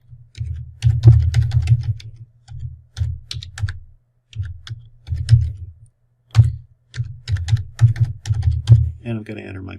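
An email address being entered on a computer keyboard, with close rapid bursts of key clicks in uneven runs broken by short pauses.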